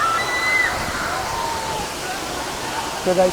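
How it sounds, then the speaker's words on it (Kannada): Powerful water rushes at Didupe waterfall in a broad, continuous roar, and a voice speaks over it briefly near the end. "ನೋಡಿ ಎಷ್ಟು ಫೋರ್ಸ್ ಇದೆ ನೀರು"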